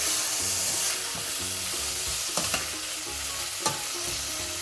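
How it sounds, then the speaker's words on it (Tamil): Dried anchovy fish and tomatoes sautéing in a pan for a dried fish curry, with a continuous sizzle, a faint low hum and a few crisp knocks of a spoon against the pan, heard close with no voices. "அதோட தக்காளி பழத்தையும் போடுவோம். இன்னும் கொஞ்சம் வதங்கட்டும்."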